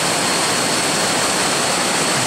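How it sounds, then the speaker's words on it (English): Waterfall at the base of a tall cascade in Thailand's hills, a steady, loud, broadband roar of falling water that fills the whole clip without a break. "basically at the base of the waterfall"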